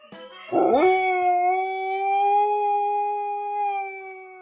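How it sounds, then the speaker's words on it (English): A single long, sustained dog howl rising after a brief yelp, steady and tonal, heard alone and fairly close. "a dog can bark, whoa, whoa, whoa, and a dog can howl, oh, oh."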